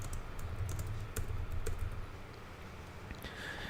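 Fingers typing on a computer keyboard, a quick run of light, close key clicks at a steady pace that thins out toward the end, with no talking.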